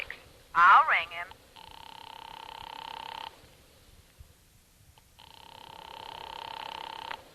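A telephone rings in two long buzzing bursts separated by a pause, following a brief spoken word at the start.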